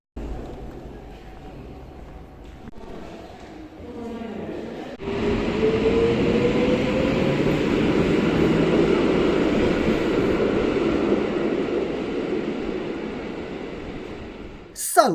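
A train rumbles loudly nearby at a station in a Polish city, with a faint rising whine, following a quieter stretch of echoing station ambience.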